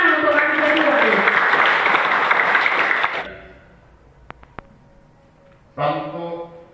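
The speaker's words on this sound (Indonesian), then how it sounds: "Tepuk tangan untuk kami berdua" An audience of grade XII students at a Catholic high school retreat applauds loudly for about three seconds before the clapping stops abruptly, leaving a couple of sharp taps in near-silence before a voice starts speaking.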